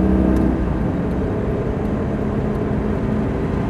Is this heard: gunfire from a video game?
no